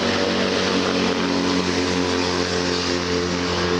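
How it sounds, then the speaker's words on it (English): Loud engine noise from motorcycles and other traffic passing outdoors, a steady heavy drone with a low rumble that stays strong and continuous throughout, with no talk over it. "I have to stop talking when these loud motorcycles and stuff are going by so you can hear what I'm saying"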